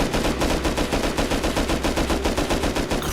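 A guard firing a gun in the Rust video game, a rapid, even stream of loud shots in quick succession, close and continuous.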